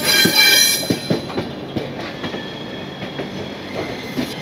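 Saraighat Express on the Howrah to Guwahati run, hauled by a WAP-7 electric locomotive, rolls along with a loud opening rush and then a steady rumble broken by regular, close wheel clacks over the rail joints. No voices.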